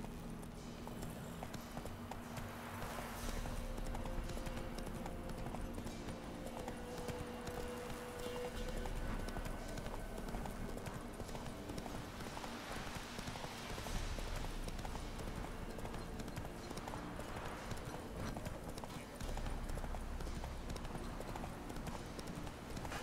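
Horse hooves gallop in the video game The Witcher 3, a continuous rapid clip-clop rhythm running steadily throughout, fairly quiet and mixed with game ambience.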